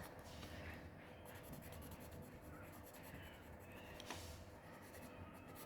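Soft, continuous scratching of pencil shading on paper for a pepper drawing, close and quiet, with a steady rubbing texture and no talking.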